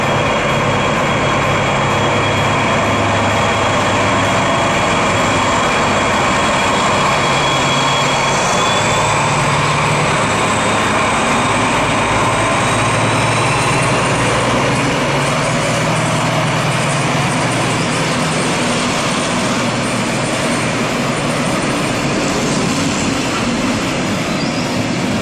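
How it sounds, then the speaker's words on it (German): A passenger train hauled by a DB class 218 diesel locomotive on the line between Lindau and Ulm, a loud, steady rumble of engine and rolling wagons lasting throughout with a high whine and rail hiss above it, no talking. "Zwischen Lindau und Ulm werden die Züge von einer Diesellok der Baureihe 218 befördert."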